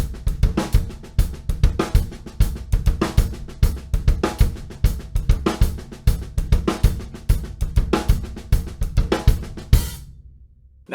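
An accented paradiddle groove on a drum set plays alone and up close: a steady, busy stream of stick hits with stronger accent strokes that stop abruptly near the end.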